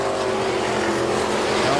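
Race cars running side by side into turn one at KilKare Speedway, a loud sustained engine roar with a steady whining pitch, close and continuous without talk.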